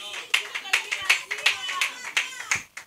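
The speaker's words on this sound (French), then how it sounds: "Est-ce qu'on peut applaudir pour moi?" A small audience at a comedy stand-up show claps in a short, uneven burst of about a dozen distinct hand claps, close and moderately loud.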